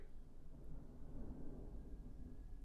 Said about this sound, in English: There's a little thunder outside.